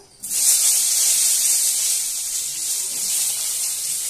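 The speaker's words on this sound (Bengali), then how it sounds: "এবার ভেজে নেব এই বেগুনটা।" Eggplant slices hit hot oil in a Bengali vegetarian kitchen, setting off a bright, steady sizzling hiss that stays close and even for several seconds with no talking.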